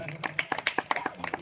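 A church congregation claps in quick rhythmic bursts at a prayer gathering, with a preacher's voice carrying over the steady beat of hands.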